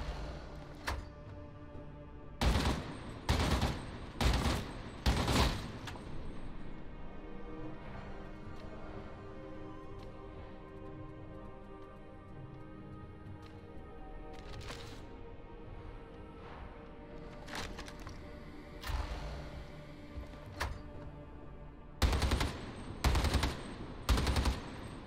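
Heavy stubber Mk V and Mk VII machine guns firing in Warhammer 40K: Darktide, several short loud bursts of rapid automatic gunfire separated by quieter pauses, with clusters at the start and end.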